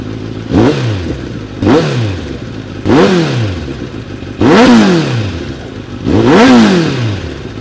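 A Kawasaki Z800 or Z900 motorcycle engine revs five times in a row, each burst climbing sharply then falling back to idle, loud and close.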